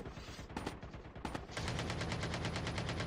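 Video game gunfire in Call of Duty: Warzone Mobile: a few separate shots at first, then a fast, sustained automatic burst that rattles on steadily, moderately loud with no one talking.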